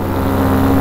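A paramotor engine idles rough and lopes with a steady low, uneven drone that sits close and fairly loud throughout.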